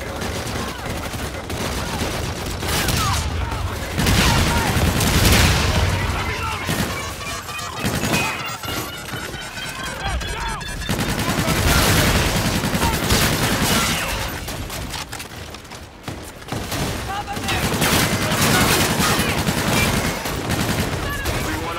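Call of Duty Infinite Warfare combat fills the air with dense, loud gunfire: sustained automatic bursts, crashing impacts and booms rolling on and off for about twenty seconds, with radio-style voices talking underneath.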